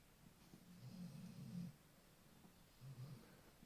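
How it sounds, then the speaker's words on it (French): A dog snores nearby indoors, two low rumbling breaths with a pause between them, soft and steady against a quiet room. "c'est encore mon chien qui ronfle"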